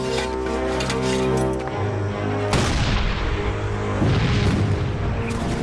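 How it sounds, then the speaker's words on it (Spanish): Civil War-era regulation field cannon at Gettysburg firing: two heavy booms a couple of seconds apart, loud and close, each trailing off in a rumbling decay over a low background drone. "Este cañón dispara proyectiles que explotan al impactar y obuses con metralla que revientan en el aire sobre la cabeza de los enemigos."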